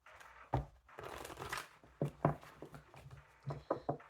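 Tarot cards are shuffled up close in quiet bursts of riffling and soft slaps, several distinct shuffles with short pauses between them.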